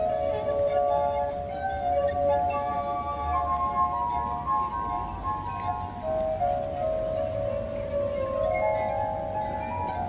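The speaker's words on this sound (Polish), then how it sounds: "To odgłos kieliszków wypełnionych wodą." Glasses filled with water are played as an instrument, giving sustained, ringing glassy tones that slide and overlap in a continuous shimmering drone.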